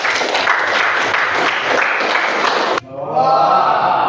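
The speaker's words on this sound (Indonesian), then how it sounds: "Tepuk tangan untuk kelompok" A school class claps for a student group, steady dense applause for almost three seconds that cuts off abruptly, followed by a brief ringing tone and murmured room sound.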